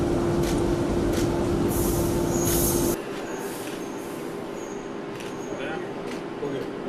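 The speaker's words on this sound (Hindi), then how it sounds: "नागपुर में मेट्रो ट्रेन को" A Nagpur Metro train in motion, a loud steady rumble with a humming tone for the first three seconds, then dropping to a quieter rolling hum with scattered squeaks and clicks.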